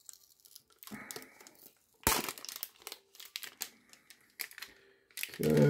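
Plastic wrapping crinkles and tears as it is peeled off a Pokémon tin, close and fairly loud, in irregular bursts with one sharp rip partway through and a louder rustle at the end; a voice speaks briefly between the sounds.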